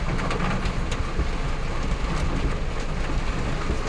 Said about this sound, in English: this is the outer rain bands that we're getting